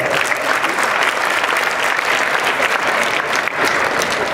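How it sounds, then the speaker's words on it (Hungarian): Loud, sustained applause from a crowd at a Christmas party, steady clapping filling the whole stretch without pause. "egy nagy tapsot"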